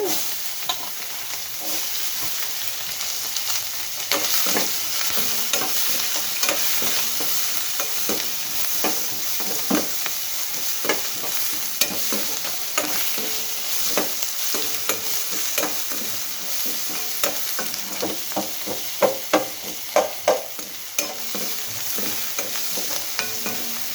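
Onions fry in oil with dried red chilies and a pinch of fenugreek powder, a constant close sizzle broken by frequent scraping stirs that grow busier toward the end.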